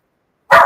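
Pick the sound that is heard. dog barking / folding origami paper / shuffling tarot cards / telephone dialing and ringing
dog barking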